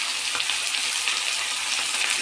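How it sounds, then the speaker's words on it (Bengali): Chopped garlic and onions fry in a hot pan, giving a close, steady hiss of sizzling oil that runs evenly throughout with no talking. "এখন একটু ভেজে নিয়ে দিয়ে দেব রসুন কুচিগুলো, আর ওই পরপরই দিয়ে দেব এই কেটে রাখা পেঁয়াজগুলো।"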